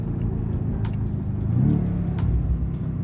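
A 2025 BMW M5 engine pulls under way from inside the car, a continuous loud rumble that swells and rises in pitch mid-way, with faint clicks over the drone.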